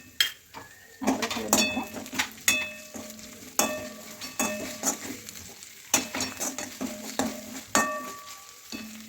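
Ginger garlic paste fries with reddish-browned onions in a pan for shev bhaji. A soft sizzle runs under repeated ringing clinks and scrapes of a metal spoon stirring against the pan.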